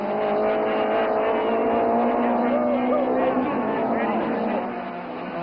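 Group N touring cars race around a circuit, their engines droning loudly and steadily with shifting pitch as they run in traffic, under continuous commentary.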